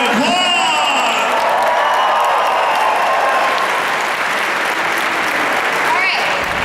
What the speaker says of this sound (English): One more time, let's give her a big round of applause!